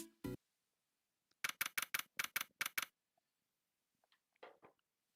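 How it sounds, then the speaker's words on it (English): Phoenix Wright: Ace Attorney Trials and Tribulations typewriter text effect: a quick run of about eight crisp, evenly spaced clacks, with a couple of isolated clicks before and after against near silence. "I was expecting a lot more typewriter sounds"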